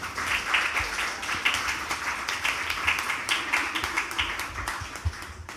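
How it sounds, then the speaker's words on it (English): An audience at the Bocas Lit Fest literary event applauds, dense clapping from many hands sustained evenly and close for several seconds. "Please give them a round of applause"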